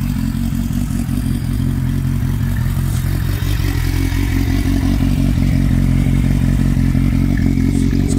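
A motorcycle engine with an aftermarket exhaust idles loudly and steadily up close, a deep rumbling throb with a rough, throaty exhaust note.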